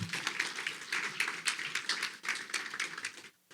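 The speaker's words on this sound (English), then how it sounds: "round of applause, everybody" Attendees at a conference breakout session give a round of applause, a soft, fairly distant patter of many hands clapping steadily, then tapering off abruptly at the end.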